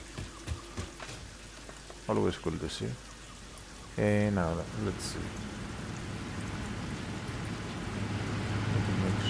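Steady rain falls in the video game Satisfactory, a broad hiss that builds and thickens over time. Someone talks over it in short bursts early on, then the rain carries on alone.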